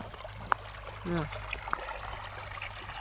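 Floodwater on a road after heavy rain trickles and streams in a faint, steady wash, with a few small splashes and a voice speaking briefly.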